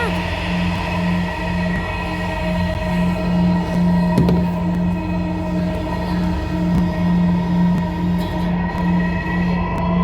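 A metro rail train runs steadily with a loud, continuous drone and a sustained low hum, a sharp clank partway through, and faint voices under the travel noise.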